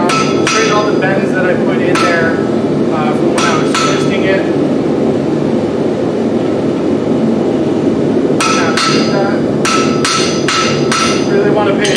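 Blacksmith hammer blows ring on hot steel on an anvil while straightening bends in a twisted piece for a campfire tripod, loud and close, in bursts of rapid repeated strikes separated by pauses.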